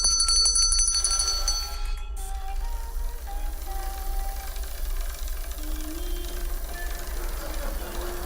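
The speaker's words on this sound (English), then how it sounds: "when I ring the bell again" A bell is struck a few times at the start, its ringing tone hanging and fading over a constant low mechanical hum that continues to the end.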